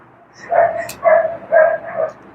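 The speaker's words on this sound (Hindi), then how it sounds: "देखो कुत्ता आज भी भौंक रहा है" Dog barking in four distinct, evenly spaced yelping barks, fairly loud and near, with a faint background hum between them.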